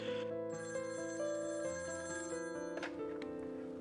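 An electronic ringtone plays steadily inside a video game during a phone call, with layered sustained tones shifting pitch in a melodic pattern and a brief bright chime near the end.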